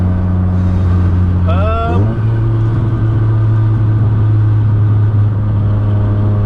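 A built, turbocharged Nissan S15 Silvia Spec R holds a steady, loud idle-to-rev drone close by, with a quick throttle blip sweeping up and back down before it settles.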